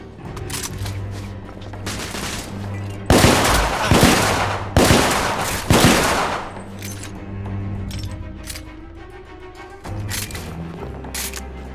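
Heavy gunfire in the video game The Order: 1886 bursts out in several loud, sharp volleys mixed with booms, between quieter stretches with tense background music.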